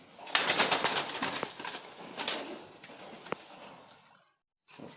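Native pigeons, including a male, flap their wings up close in bursts of rustling beats, with a brief soft call near the end before a short silence.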